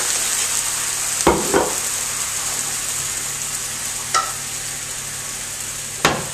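A frying pan is deglazed with red wine for a steak pie sauce, a loud steady sizzle with a few sharp scraping clacks of a utensil against the pan.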